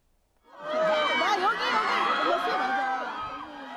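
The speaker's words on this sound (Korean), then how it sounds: "영화제의 상징인 붉은 카펫 위로 배우들이 등장하자 환호성이 터집니다" A crowd cheers and shouts as actors arrive on the red carpet at the opening ceremony of the Jeonju International Film Festival, held on a street of cinemas. The dense, loud roar of many voices starts suddenly and holds steady.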